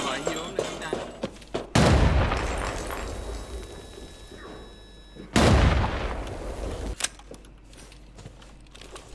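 Two heavy booming grenade explosions in the video game Arena Breakout: Infinite land a few seconds apart, each a sharp blast with a rumbling tail, between quieter stretches.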